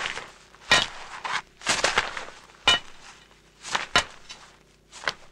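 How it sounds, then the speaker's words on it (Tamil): Someone digging a tunnel makes a series of irregular hard bangs and knocks, like tools striking earth and wood. Some strike alone and some come in quick clusters, over a dull background hum with no speech. "தப்பிச்சு போக சுரங்க வெட்டிட்டு இருக்கணும்."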